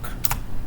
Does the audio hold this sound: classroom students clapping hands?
no